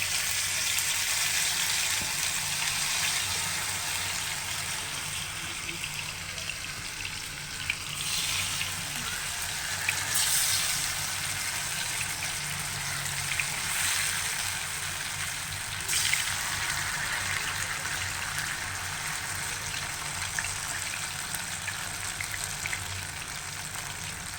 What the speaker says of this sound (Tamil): இப்போ நம்ம ஊற வச்ச இந்த வாழைக்காயை ஒன்று ஒன்றா நம்ம சேர்த்துக்கலாம்